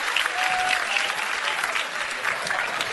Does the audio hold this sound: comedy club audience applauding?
yes